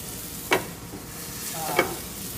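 Meat browns in a hot pan for a braise with veal stock, giving a soft steady sizzle broken by two brief scraping stirs.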